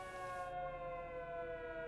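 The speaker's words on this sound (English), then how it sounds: "the siren's going off to say that somewhere there's more zombies attacking" A zombie attack alert siren in Secret World Legends wails steadily and loudly, a sustained tonal blare holding level throughout with no voices over it.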